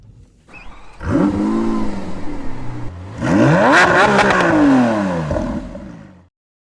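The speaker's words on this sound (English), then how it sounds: "I can take over, clicking down into drive and then pulling forward" A 2025 BMW M5 shifts into drive and pulls forward, its engine rising in two loud surges with a gear change between them, then cutting off abruptly.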